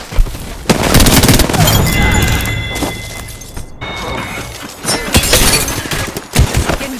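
Rapid gunfire from a battle in the video game Apex Legends, loud bursts and cracking shots that run through most of the stretch with a brief lull in the middle, then more volleys toward the end.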